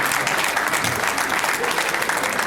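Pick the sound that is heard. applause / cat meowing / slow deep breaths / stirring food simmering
applause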